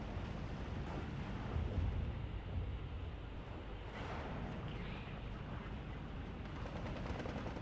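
Rifle fire and other battlefield gunfire in the World War II strategy game Steel Division 2, a dense, continuous roar of shots and rumbling explosions with no clear pauses.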